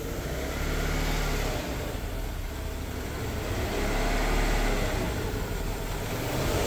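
An abandoned Renault Duster with a 2.0 engine runs steadily close by, its mid-pitched engine hum swelling slightly as it revs now and then, with no voices over it.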